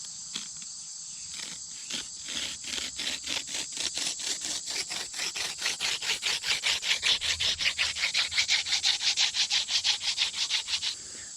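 A soft cattail spindle drills into a soft wooden fireboard in a bow or hand drill, a rhythmic squeaky rubbing that speeds up and grows louder in rapid regular strokes.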